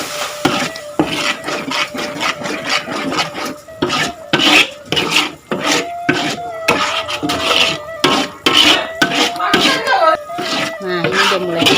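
Spices for chicken gulai kaliyo are stir-fried in a large wok. A spatula scrapes and rasps against the pan in quick repeated strokes while someone talks over the cooking.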